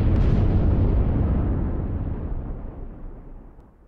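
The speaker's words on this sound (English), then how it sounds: "Because there's no air, you don't hear the explosions. But we heard that one." A loud, deep explosion in space from The Expanse video game booms immediately, then a long rumbling roar slowly fades out over several seconds, with nothing else around it.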